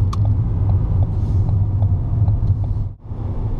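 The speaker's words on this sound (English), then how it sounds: "Hold the biting point for a second, more gas, as you smoothly release the clutch." The engine of a manual car rumbles steadily and close from inside the cabin as the driver brings up the revs and lets the clutch out to move off quickly at a busy roundabout, with a brief dip near the end.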